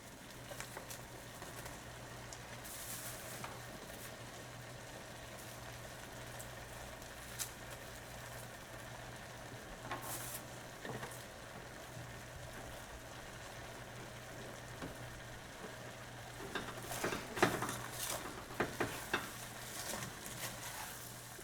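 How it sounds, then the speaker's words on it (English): Onions sautéing in a Dutch oven give a soft, steady sizzle with light stirring scrapes, quiet and continuous, with a few sharper clinks and spoon taps near the end and no talking. "Now I'm putting my onions so that they will cook and saute first"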